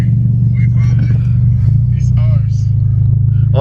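A car driving off-road gives a loud, close low rumble throughout, while a person talks over it almost continuously.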